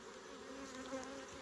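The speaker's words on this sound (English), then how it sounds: "There's so many bees crawling around so quick." Honeybees buzzing around an open beehive during pest control work, a faint steady insect hum with no talk.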